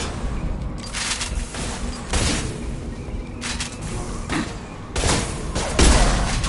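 Gunfire in Mass Effect 2 sounds as several heavy bursts and booming shots, spaced unevenly and loud, under a low rumble of game ambience.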